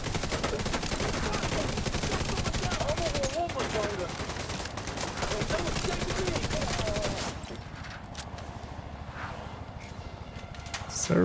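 Video game gun firing after a jam is cleared, dense loud rapid shots packed together for several seconds, then fading to quieter scattered sounds with some radio-style chatter in the background.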